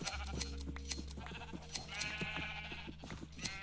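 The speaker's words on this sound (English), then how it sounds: "Here's my huge sheep farm." Several Minecraft sheep on a large farm in the video game, bleating repeatedly at irregular intervals over a faint steady background tone, with no talking.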